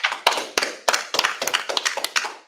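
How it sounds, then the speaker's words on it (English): A small group claps in uneven, sharp bursts, each clap distinct and close, sounding like scattered hands in a modest room rather than a full audience. "Clap it up."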